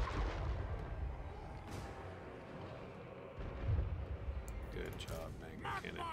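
Magma Cannon artillery fires in a Total War: Warhammer 3 battle with Chaos Dwarfs, heavy rumbling booms and a sustained eruptive roar rising midway, set among continuous battle noise.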